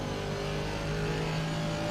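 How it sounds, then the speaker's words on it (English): Steady race car engine from a GT3 racing video game at the Barcelona circuit, a continuous droning hum held at an even, loud level throughout with no speech. "Lower the engine sound a bit."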